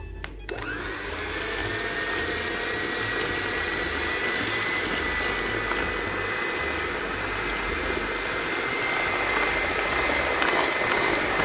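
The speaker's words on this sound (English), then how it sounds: "and then you just mix with the hand mixer." An electric hand mixer whirs steadily and loudly through ice-cream log cake batter, a constant motor drone from start to finish with no talking.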